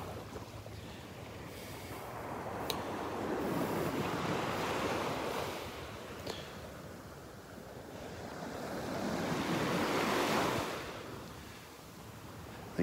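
Small ocean waves break and wash along a Gulf beach at Delnor-Wiggins, a steady rolling surf swelling and fading twice, with wind buffeting the microphone throughout.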